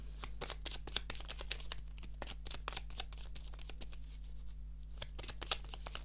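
Tarot cards being shuffled by hand, a soft flurry of quick crisp flicks and riffles close by over a steady low hum, with no one speaking.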